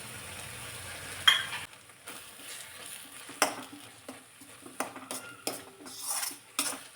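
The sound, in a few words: sautéing curry with red chilli powder in oil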